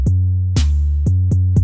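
An 808 bass library in Kontakt responding on several MIDI channels at once: booming sustained sub-bass notes struck in a stuttering rhythm of four or five close, loud hits, one with a bright noisy attack.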